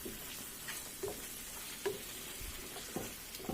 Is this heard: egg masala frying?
yes